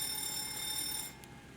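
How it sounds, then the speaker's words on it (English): A fire alarm bell rings steadily in the APU fire test of a FlyJSim 727 flight simulator cockpit, a continuous electric ringing that stops abruptly partway through, with no talking. "Let's test the APU fire system."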